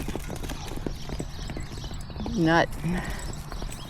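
A miniature horse's hooves clip-clop in a quick running rhythm close by. A person talks over them, and there is a brief vocal sound partway through.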